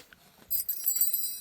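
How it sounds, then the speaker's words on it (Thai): A small bell hanging as decoration in a vegetable garden, near a cat or tiger figurine, chimes with bright, thin high ringing that starts partway through and keeps shimmering faintly. "ก็จะมีระฆังด้วยนะเป็นกระดิ่ง"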